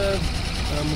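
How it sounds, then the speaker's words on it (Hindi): A Suzuki Bolan van engine idles with a steady low rumble after engine repair, a voice talking over it. "आप आवाज़ भी गाड़ी की सुन सकते हैं,"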